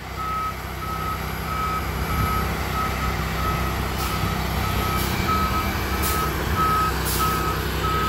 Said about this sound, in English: The truck just backs up to it.